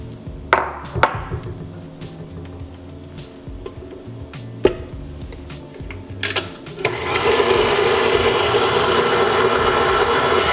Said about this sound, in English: Add both of them in at the same time, and you want to blend the mixture well